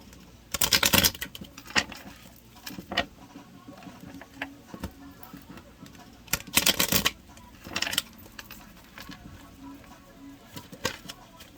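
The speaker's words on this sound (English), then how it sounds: "We're shuffling the cards here." A deck of tarot cards is shuffled close up, giving bursts of rapid riffling and flapping card noise around two louder flurries, with softer taps and slides between them.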